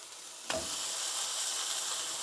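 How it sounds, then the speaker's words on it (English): A sudden hiss as burger patties hit a hot pan, settling into a steady, bright sizzle that carries on alone. "Hear that sizzle?"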